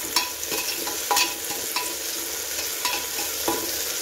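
Peas and tomatoes fry for a vegetable biryani, a steady loud sizzle in a pan broken by a few sharp scrapes and taps of a stirring spoon, with no voice present.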